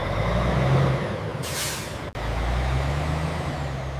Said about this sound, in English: Once loaded and sealed, each truck is ready to head out onto the highway.